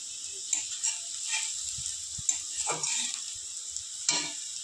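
Nigella seeds dropped into hot oil with browned fried onions, giving a steady sizzle broken by a few clicks and scraping stirs in the pan, no voices.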